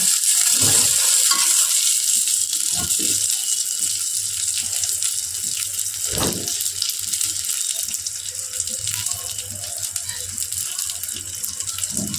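Cashews and raisins fry in a pan for a breakfast dish, giving a steady broadband hiss and sizzle with occasional stirring scrapes, close and fairly loud throughout.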